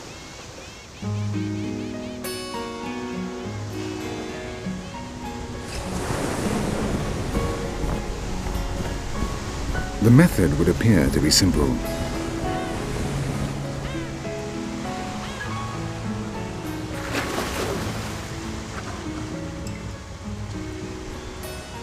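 Pacific Ocean surf washes and crashes steadily against a young volcanic coast, with someone narrating and soft music playing over the waves.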